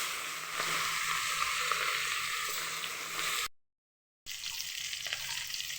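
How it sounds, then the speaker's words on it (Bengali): Fish frying in hot oil, giving a steady dense sizzle that cuts out briefly and resumes, close and moderately loud with no talking. "তেল দিয়ে মাছটা ভেজে নেব। এই যে আমার তেলটা গরম হয়ে গেছে, এখন মাছ দেব।"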